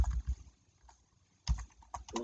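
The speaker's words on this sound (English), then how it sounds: "I will select some password I'm typing, and again I'm typing some password." Keys on a computer keyboard clack in short bursts as a password is typed for an online course registration, soft and close, with quiet pauses between the groups of taps.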